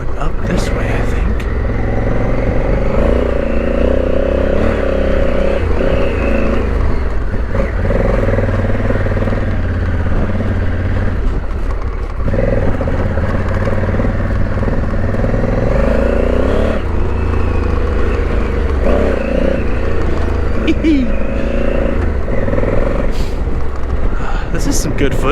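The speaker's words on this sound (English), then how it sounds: "This is some good footage riding this Africa Twin." Honda Africa Twin motorcycle riding along a trail, with a loud continuous engine drone that rises and falls with throttle and rattles over rough ground.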